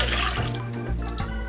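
A cup of water pouring into a pizza dough mixture in a bowl, a continuous close splashing and trickling stream that lasts throughout.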